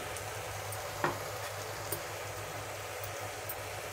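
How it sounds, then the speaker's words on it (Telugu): Tomato pieces with salt, coriander powder and a pinch of turmeric stirred in a pan for a bottle gourd and moong dal curry, giving a steady soft sizzle with a few faint scraping clicks of the spoon. "ఒకసారి బాగా కలుపుకుందాము"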